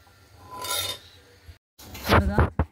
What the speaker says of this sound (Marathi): त्याला मॅश करायचं